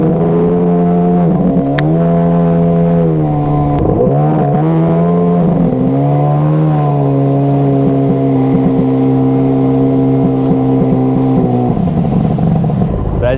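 A Sea-Doo XPL 951 engine on a Mikuni Super BN 46i carburetor idles loudly and close, with several throttle blips where the pitch rises and sags before settling back to a steady drone.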